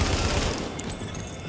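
Dense burst of automatic gunfire in Tom Clancy's The Division, loud and close, a rapid fusillade that rings out alone with no talking over it.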